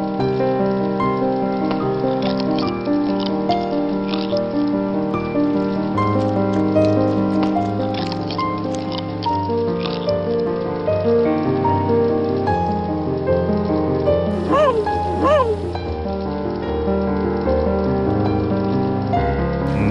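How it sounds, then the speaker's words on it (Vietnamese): Steady rain falls throughout an animated folk-tale scene, a dense continuous patter heard under a constant bed of music, with no talking. "Mưa rồi"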